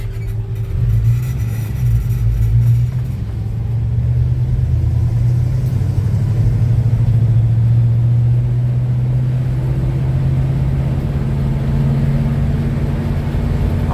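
A 1966 Chevy C10 truck on the road, its engine giving a deep steady rumble that swells slightly as it pulls along, loud and close throughout with no voices.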